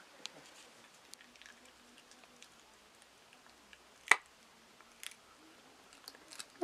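Dogs gnawing on hard chew treat sticks, with quiet scattered crunches and one sharp bite standing out midway, a few more toward the end, over a faint room hush.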